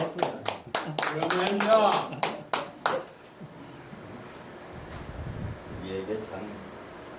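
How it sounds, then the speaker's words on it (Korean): A church congregation claps in a short burst of sharp, separate hand claps that fade out after a few seconds, followed by quieter room noise and a person speaking. "박수"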